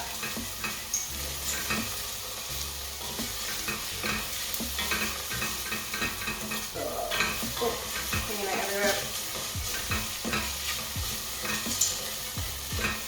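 Vegetables for carrot and coriander soup sizzle in a pot while being stirred, with steady frying hiss and occasional scraping and clinks; a voice speaks briefly.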